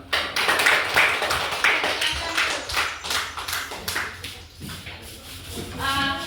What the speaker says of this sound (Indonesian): kita beri aplaus pada kelompok 1